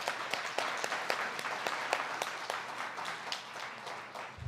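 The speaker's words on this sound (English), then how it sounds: "big round of applause for our participants" Audience applause for youth panel participants, moderately soft steady clapping with individual sharp claps standing out, fading slightly toward the end.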